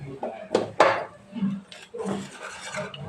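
Dry rice flour and salt are rubbed and mixed together by hand in a bowl, making soft, close rustling and gritty scraping strokes in short uneven bursts, with no talking.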